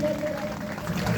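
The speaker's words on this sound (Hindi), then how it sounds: "श्री जितेंद्र सिंह जी के लिए बड़ी जोरदार ताली बजाइए।" A crowd at a public gathering claps steadily and heavily throughout, with a dense wash of applause and some crowd noise blended in.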